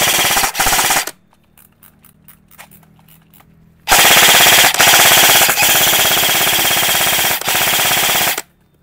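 E&C 867SE airsoft gun firing on full auto in two loud sustained bursts, a short one of about a second and then a long one of about four and a half seconds, separated by quiet handling clicks.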